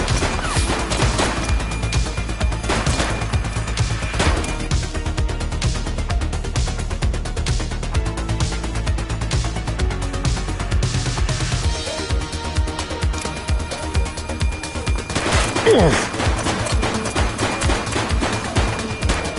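Rapid gunfire bursts from a video game firefight crackle and boom continuously over a dense, loud mix of game music and effects, with a sharp louder shot near the end.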